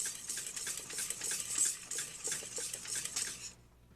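Rapid rhythmic whisking of a warm genoise sponge egg mixture in a bowl, steady clicking strokes running close and continuous for several seconds before stopping abruptly.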